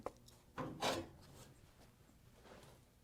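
A rusty steel door edge being rounded over with a rasping abrasive stroke, two louder scraping bursts close together near the start, then fainter rubbing against low background noise.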